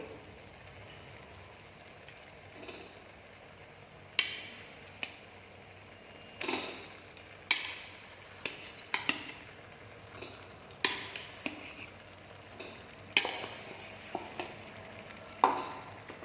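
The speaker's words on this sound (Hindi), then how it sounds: "और इसको मैं चला लूँगी" A spoon stirs khoya into soft cooked bottle gourd in a pan. Repeated scraping knocks against the pan come every second or so over a faint sizzle, with no one talking.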